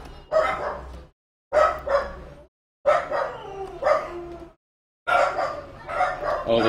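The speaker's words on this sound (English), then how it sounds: "Because the wiener dogs are now interacting with the neighbor's husky." Dachshunds bark in four separate bursts of rapid, yappy barks with short silent gaps between them, fairly close and loud.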